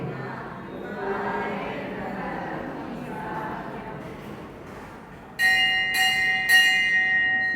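A temple bell at a Jain scripture recitation rings in a few bright, ringing strikes with long sustained tones near the end, after a stretch of chanting voices.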